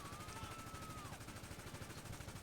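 Gunfire from the video game GTA V Online: rapid, steady bursts of shots run through the whole stretch at an even, fairly loud level, with a brief whining tone over the first half.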